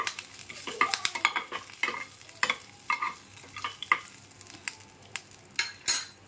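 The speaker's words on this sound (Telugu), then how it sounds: "చిటపట్లాడుతుంది." Curry leaves frying in a small amount of ghee, giving close, irregular crackles and sputtering pops with soft sizzling between them and occasional scrapes of a spoon stirring the pan.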